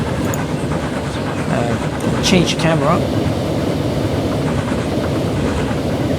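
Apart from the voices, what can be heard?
train running on rails in video game Transport Fever 2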